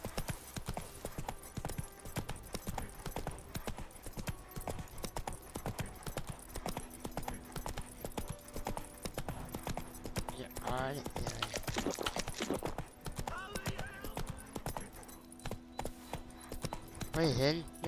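Roach, Geralt's horse in The Witcher 3: Wild Hunt, gallops with a steady, rapid clip-clop of hooves that runs throughout, joined by occasional whinnies, with someone talking over the hoofbeats.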